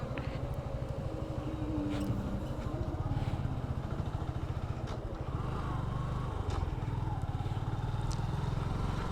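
A Suzuki Gixxer 155 motorcycle engine runs steadily with a throaty putter, close by, with faint wind and road noise and no speech over it.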